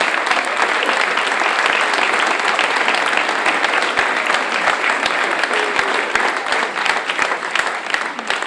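Sustained applause from an audience at a New Year's medal presentation ceremony in Tarnos, steady and dense clapping filling the room for the whole stretch without any talk.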